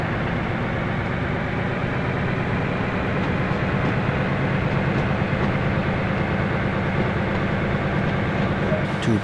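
An electric BR 146.2 locomotive in the Train Sim World 2 game pulls away on the Main Spessart line, giving a steady dense rolling rumble and hum that holds at an even level throughout.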